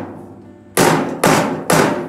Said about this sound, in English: Let's try the rubber mallet first a little bit.